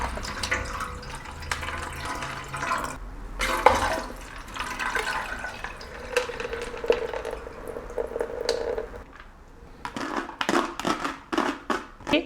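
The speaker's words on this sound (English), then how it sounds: "This is the extra brine I have saved because some will evaporate and I will probably need to use it to fill the jars completely." Saved salt-only brine is poured into jars of fermenting pickles at home, a close, steady splashing and gurgling pour that breaks into short bursts and drips toward the end.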